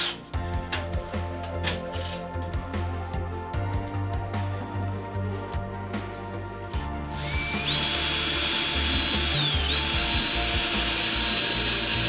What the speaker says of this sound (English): Let me run drill holes.